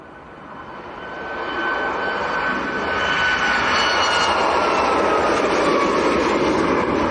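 A Ryanair airliner at Leeds Bradford Airport roars as its jet engines build to a loud, steady rush with a rising whine, heard from outside at moderate distance.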